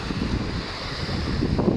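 Strong wind gusting across the seaside beach at Międzyzdroje, a loud, continuous roar of wind buffeting the microphone over a steady wash of surf, with no voices.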